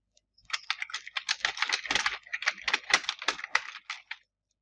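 Steady, rapid typing on a computer keyboard while entering text in Microsoft Word, a dense run of close, crisp key clicks lasting about four seconds with no voices.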